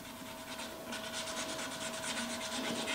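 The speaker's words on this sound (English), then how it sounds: "There's no reason why we can't actually sand that by hand." A wooden cooking spatula sanded by hand while mounted on a lathe, giving a steady, close rasping rub in rhythmic strokes with no voices.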